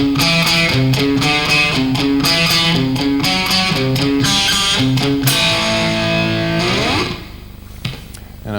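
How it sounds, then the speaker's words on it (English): A twangy electric guitar picks a repeated melodic lick with bright, clear notes in a steady rhythm, ending in a sustained ringing bend that fades near the end. "I use sort of a twangy kind of guitar sound"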